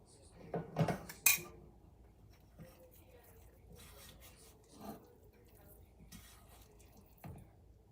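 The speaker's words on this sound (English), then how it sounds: "what I'll do is I'll put the pan here" Metal pans and utensils clatter and scrape on a kitchen counter, with a couple of sharp clanks near the start followed by softer rubbing and faint knocks, quiet and close under low talk.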